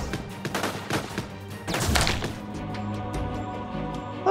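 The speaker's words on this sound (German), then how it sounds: "Jackson, fokussierter Schuss." Focused shot in the video game Judgment: Apocalypse Survival Simulation: several sharp gunfire cracks in quick succession, then a lingering tail, heard alone.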